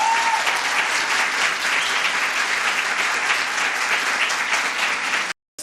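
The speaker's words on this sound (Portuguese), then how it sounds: "eu peço uma salva de palmas para eles" Sustained applause from the audience at a university exhibition opening, a thick, even roar of many hands clapping that continues steadily and then cuts off abruptly near the end.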